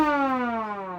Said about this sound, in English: Put headlights on it and a siren horn.